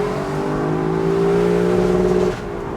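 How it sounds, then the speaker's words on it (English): A 2021 Lexus LC 500 Convertible engine, loud and close, holding a steady rising drone through a downshift blip before cutting off abruptly near the end, with no talking. "those downshifts are so addicting"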